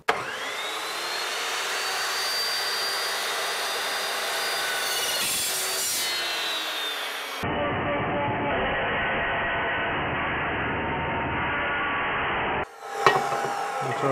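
A Metal Evolution S355CPS cold saw cuts through 50x50 mm square steel tube, a loud sustained whining grind that shifts in tone midway, then stops abruptly and a short clatter and a second burst follow.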